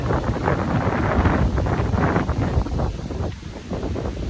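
Wind buffeting an outdoor microphone, a steady low rumble with gusty swells that stays loud and close, with no voices.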